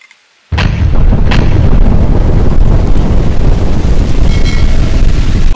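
A grenade explosion in a mobile military shooter game erupts after a brief silence into a loud, sustained booming rumble that lasts several seconds, heard alone without talk.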